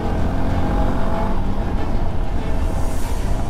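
Motorcycle riding through the hairpin bends on the road up to Kolli Hills: a steady, loud engine drone mixed with wind rush, continuous throughout, no talk.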